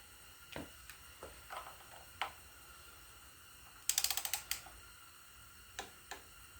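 A ratchet-style wrench works on a Case D tractor engine during assembly, scattered close mechanical clicks, then a quick burst of rapid ratcheting clicks and a few more isolated clicks, with no talking.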